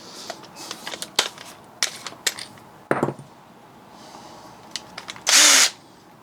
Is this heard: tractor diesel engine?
no